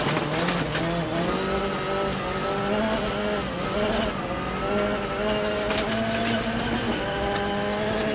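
A WRC rally car driven at full pace onboard during stage 20 of Rally Poland 2014, its engine roaring loud and constant with shifting revs and gear changes, tyre noise mixed in as a co-driver reads pace notes underneath.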